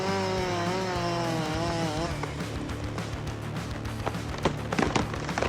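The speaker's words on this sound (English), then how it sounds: "The chainsaw has a compact yet powerful design, with a gasoline or electric engine encased in a durable plastic housing" A chainsaw with a compact gasoline or electric engine in a durable plastic housing cuts wood. It gives a loud, continuous engine whine that shifts into rough, crackling cutting noise with sharp bursts toward the end.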